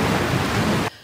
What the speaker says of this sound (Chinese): 屏东已经掀起了三米高的浪高。 不断拍打上岸，浪花越卷越高，最后直接灌进东流线码头内